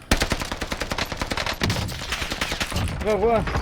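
Rapid bursts of STG and MP40 automatic gunfire in a video game, dense repeated shots close and loud, with a player's voice talking over parts of the firing.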